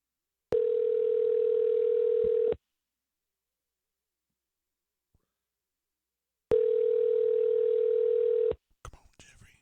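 Two long ringback tones on an outgoing telephone call, each a steady electronic buzz lasting about two seconds, separated by silence, clear and close, with faint rustling after.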